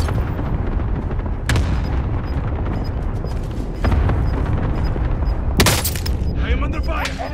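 Gunfire in Call of Duty Warzone on Rebirth Island: several sharp, loud shots and bursts crack out at irregular intervals over continuous rumbling battle noise.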